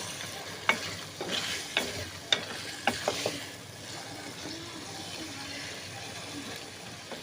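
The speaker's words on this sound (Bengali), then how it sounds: "এটা কিছুক্ষণ ঘুরে দিচ্ছি, এটা হবে।" A spatula stirring teasel gourd with assorted small fish in a frying pan: several sharp scraping clinks over a soft sizzle, close and fairly quiet, the strokes coming in a loose rhythm early on before settling into gentle frying.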